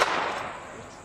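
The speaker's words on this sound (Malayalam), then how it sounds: "ഇതിന് തൊട്ടടുത്തായിട്ടൊരു ഷൂട്ടിംഗ് റേഞ്ച് ഉണ്ട് അവിടെ നിന്നുള്ള ശബ്ദമാണ് നിങ്ങളിപ്പോൾ കേട്ടത്" A sharp, loud crack at the start that trails off into a long, rumbling echo, like a single distant gunshot from a nearby shooting range rolling across open ground.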